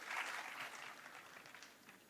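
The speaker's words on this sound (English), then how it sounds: "Can we have a huge round of applause for sir?" An audience at a university event claps, a dense faint patter of many hands that swells at first and then slowly thins out.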